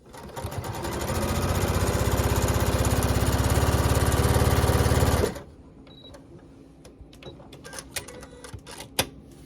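A sewing machine stitches a quarter-inch seam on a square-in-a-square quilt block, whirring loudly and steadily for about five seconds before stopping abruptly, followed by quiet fabric handling and small clicks.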